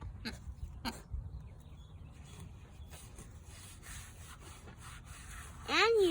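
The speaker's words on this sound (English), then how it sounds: "he technically loves rubbing his back on the wood" A farm animal, likely a pig, rubs its back against wood, making a low, continuous scraping and rubbing texture close by, with a couple of sharper knocks early on and a brief squeaky chirp near the end.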